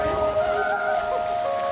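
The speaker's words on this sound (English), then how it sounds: "the rain started to fall." Steady rain patters across a town square, a dense, even hiss of drops hitting the ground. Faint tonal sounds drift underneath, and no one speaks.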